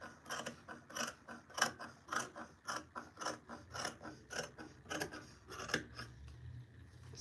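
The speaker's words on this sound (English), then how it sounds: "I'm cutting down the band so that I can" Scissors snip through a fabric band for a sewn duster, making a close, crisp run of about a dozen evenly spaced cuts in a steady rhythm. No voice is heard.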